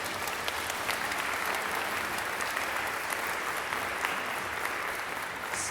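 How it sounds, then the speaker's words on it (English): Sustained audience applause for an award winner at a sustainability award ceremony, a dense even wash of clapping, moderately distant and fairly quiet, with no voices standing out. "So an applause for Professor very proud Robert."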